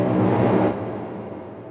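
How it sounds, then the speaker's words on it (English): An orchestral roll building toward a chorus, a dense sustained swell of percussion and strings that holds loud, then eases and fades, with no voices. "that is the orchestra roll"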